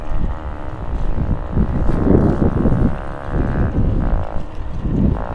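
Strong wind rushes past the microphone while riding a bicycle along a road near Vientiane, a loud, continuous buffeting roar that swells and eases with no voices.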